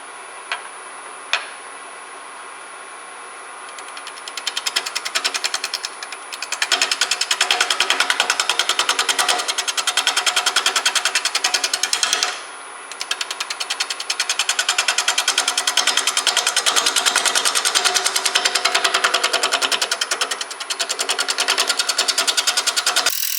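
A wood lathe spins a large wet magnolia wood bowl at about 613 RPM, giving a loud, continuous rapid ticking whir as the tool cuts, with a brief dip midway and small knocks at the start.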